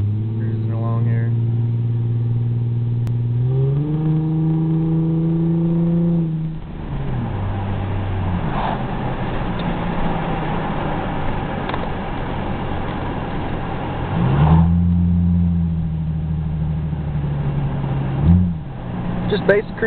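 A 2010 Ford Mustang with no muffler cruises along with the windows down, its loud, raspy engine drone rising and falling through gear changes and steady throttle, with a voice talking over it.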